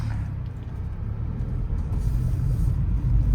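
A Mahindra XUV300 petrol W6 AMT on the move gives a deep, steady road rumble that swells slightly toward the end as the suspension is tested, with no voices.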